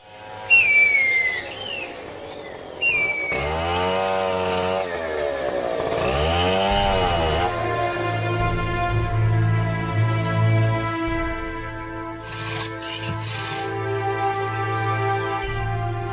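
A chainsaw cuts kumaro timber in the Amazon rainforest, logged for its wood. Bird calls come first, then the saw's whining engine rises and falls in pitch through repeated cuts, mid-distance and steady.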